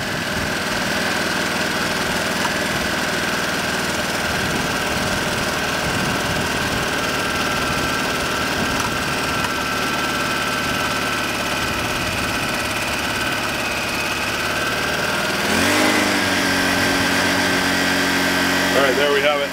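A Honda 1000W portable generator runs at a steady loud idle while it warms up with the choke on, a continuous close engine drone with a slight shift in tone near the end.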